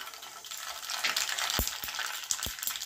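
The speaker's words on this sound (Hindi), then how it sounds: "अब इसमें 1 टेबल स्पून हम राई डाल देंगे" Mustard seeds sizzling in hot oil for a tempering, a bright hiss dotted with several sharp popping crackles in the second half, close and fairly loud.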